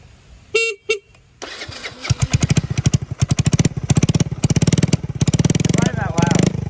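A straight-piped moped starting and revving, a short horn-like blips then a loud, rapid popping exhaust beat that rises and falls up close, with people talking over it.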